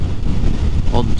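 Strong coastal wind on the Isle of Skye near Staffin buffets the microphone in a loud, steady rumbling roar that fills the whole moment with gusty swells.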